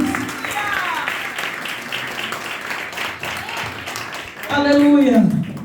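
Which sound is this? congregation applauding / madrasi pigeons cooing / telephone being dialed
congregation applauding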